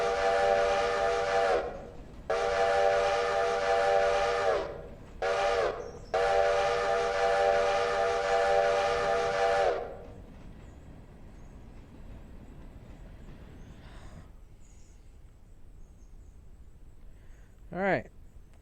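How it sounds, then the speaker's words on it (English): Steam locomotive whistle in the Railroader train simulator sounds a long, long, short, long pattern: three sustained harmonic blasts with a brief toot between, loud and close, followed by quiet rumble and a short rising tone near the end. "long, long, short, long whistle"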